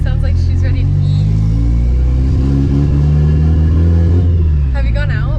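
A Mitsubishi Evo with a newly built exhaust rumbles and revs loudly close by, its deep drone rising and falling while people talk over it throughout.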